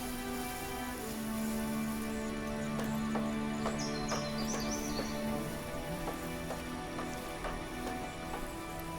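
Steady rainfall in the fantasy strategy game SpellForce III, a continuous soft patter with faint chirps and low tones from the game's music layered over it, no voices.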